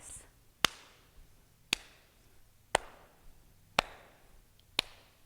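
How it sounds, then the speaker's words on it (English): Five sharp hand claps ring out at roughly one-second intervals, evenly spaced and crisp, standing alone over a quiet room background with no talking. "6 claps."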